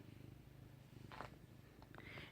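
A cat purrs close to the microphone in a steady, soft rhythmic rumble, with a couple of brief rustling noises over it.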